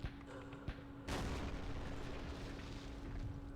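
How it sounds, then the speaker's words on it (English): A mortar explosion booms in the war game Campaign Series Middle East, a sudden broad blast after a couple of faint thuds, followed by a long rumbling decay with a steady hum underneath. "That's the mortars."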